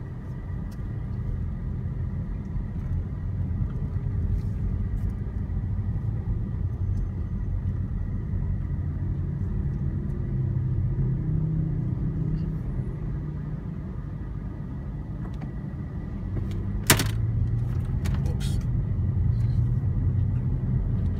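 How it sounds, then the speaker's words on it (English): A car on a road test drive gives a steady low engine and road rumble, heard from inside the cabin the whole time, with one brief sharp click partway through. "So now we can actually go on the road for a test drive."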